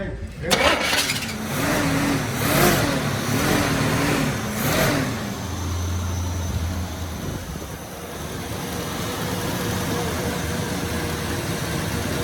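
A Chevy C30 dually pickup with a 400 V8 revs hard and burns rubber, a loud, rough engine roar swelling in repeated surges before settling into a steady drone, with voices shouting over it.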